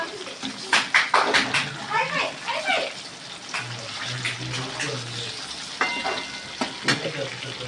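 Fish fries in a pan with a loud, crackling sizzle close by and scraping as pieces are turned, while people talk over it throughout.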